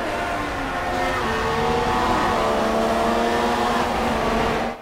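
Sauber BMW Formula 1 car racing at the Hermanos Rodriguez circuit in F1 2016, a loud high-revving engine whine held steadily with gradual pitch shifts through the gears, ending abruptly.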